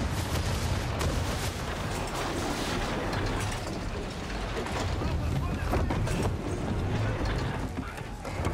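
Naval cannon fire during a ship battle in Assassin's Creed III, heavy booms and crackling blasts in a dense, loud barrage, with game sound and someone talking over it.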